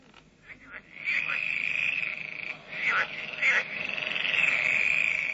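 Frogs croak in a steady, shrill chorus with a few louder calls rising above it, moderately close, over faint background noise.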